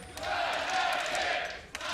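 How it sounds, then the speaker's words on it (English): Excited crowd in the arena at an LEC esports match, Fnatic vs G2, spring 2019: a continuous roar of cheering and shouting that swells and then holds, with a short sharp accent near the end. "The crowd is amped."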